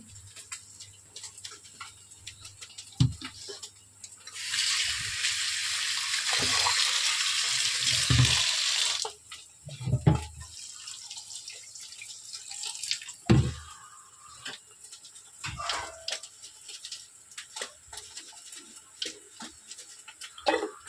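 Water pours and drains off boiled Maggi noodles, a rushing splash for several seconds followed by scattered drips and small clatters, close by.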